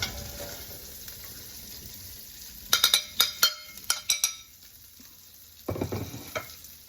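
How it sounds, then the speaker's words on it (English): Cooked sausage sizzles softly in a pan while a utensil lifts it out, producing a run of sharp clinks and scrapes against the pan midway, then a brief louder sizzle near the end. "Our sausage is cooked up enough, and now we're going to remove it from the pan and transfer it to a plate"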